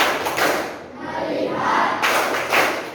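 A class doing the tepuk fokus clap activity claps together in a few quick bursts, close and lively, amid room noise and brief voices.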